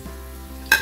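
Onions fry in a pan until golden brown, cooked as the first step of a dhaba-style handi mutton; a short, soft sizzle runs steadily, then a brief, louder stirring scrape comes at the end.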